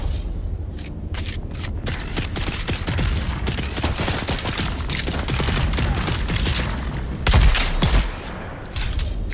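Gunshots in the Dune Awakening video game, a rapid stream of sharp, closely spaced shots firing over several seconds, loud and near, with one heavier boom late on.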